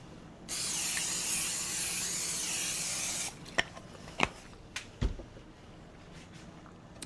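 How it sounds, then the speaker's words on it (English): Cooking spray hisses steadily onto a baking pan for about three seconds in a kitchen, loud and continuous, followed by a few soft clicks and taps. "So now we're going to spray our pan."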